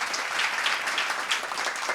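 Audience in a studio hall gives a hearty round of applause for a socially minded teacher, a steady, dense clapping that fills the whole stretch without any voices over it.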